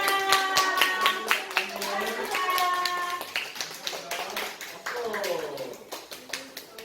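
Clapping breaks out among a congregation at a church service after a celebratory announcement, several sharp hand claps mixed with voices talking and singing, loud and close.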